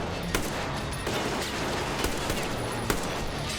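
Rapid bursts of gunfire in the video game Metro Exodus, a dense continuous fusillade with a few sharper cracks standing out, loud and close with no talking.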